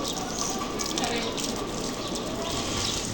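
Garden plants are watered with a steady, close gushing spray that runs without a break for the whole stretch.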